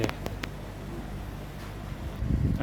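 A Mitsubishi home air conditioner, serviced for weak airflow and poor cooling, blows air with its fan at the highest setting: a steady, even whoosh of broadband noise that holds throughout, slightly louder near the end.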